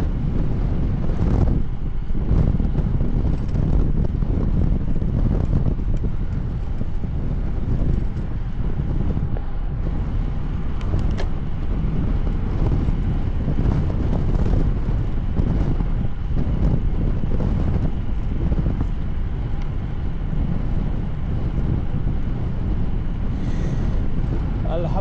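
Strong crosswind from the right buffets a microphone at night, a continuous heavy low roar with gusty surges lasting throughout, close and loud.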